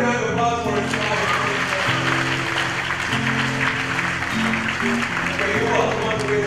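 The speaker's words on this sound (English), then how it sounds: "Can we get a round of applause for inspired?" Audience applause in a school assembly, a continuous round of clapping beneath steady background music, loud and sustained throughout.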